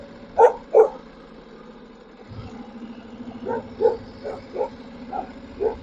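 A village dog barks in a rural cattle-farming neighborhood: two sharp close barks, a pause, then a run of several more barks at irregular intervals over a low background hum.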